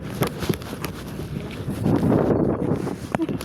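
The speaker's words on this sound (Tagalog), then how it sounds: "Ito mahangin." Wind gusting steadily against the microphone, a rough broadband rush that swells louder midway, with a few faint knocks and thumps.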